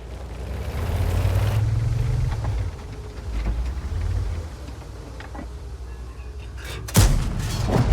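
A tank cannon in World of Tanks fires with a booming report, followed by rumbling engine and battle noise, then a second sharp blast near the end.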